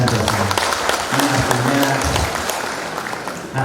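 Audience applause at a public launch event for a village graduate program, moderate crowd clapping mixed with some background voices and a low hum.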